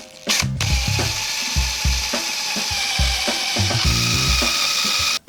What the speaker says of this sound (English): I might see if I can drill out the rest with just a smaller drill bit